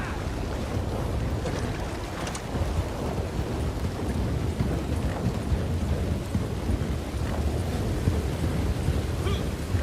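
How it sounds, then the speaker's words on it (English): Rumbling thunder during a thunderstorm before any rain, a loud continuous low roll with wind buffeting the microphone and rushing noise throughout, and one sharper crack early on. "And we've got a thunderstorm here. No rain just yet. A lot of thunder and lightning."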